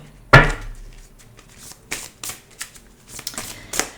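A deck of oracle cards is shuffled once, with a sharp riffle burst near the start followed by several softer card flicks and rustles, close by and with no talk.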